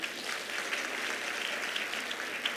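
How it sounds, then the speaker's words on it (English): An audience at a women's health and wellness event applauds steadily for a keynote speaker, a dense, even wash of clapping with no talk over it. "Let's give her a round of applause."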